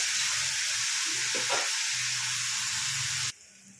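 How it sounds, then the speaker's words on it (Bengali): Onion fries with a little salt in a pan for a fish dish, a steady close sizzle with some stirring. It cuts off abruptly just before the end. "পেঁয়াজটা ভালো করে ভেজে নিয়ে দেবো।"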